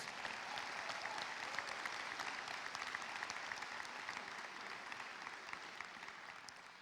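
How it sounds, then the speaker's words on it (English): Audience at a 2021 high school graduation ceremony applauding faculty and staff, a steady, even patter of many hands heard from a distance, fairly faint and continuous with no talking over it. "Can we please give them a big round of applause?"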